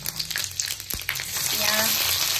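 Panch phoron, a spoonful of five-spice seeds, hits hot oil with dried chillies already in the pan, giving a close, steady crackling sizzle that swells and holds, with a light stir or clink early on.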